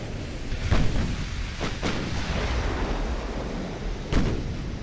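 Naval cruiser guns firing in the Ultimate Admiral: Dreadnoughts warship game, a few heavy booming shots spaced apart over a steady rumbling battle background, with a louder blast near the end.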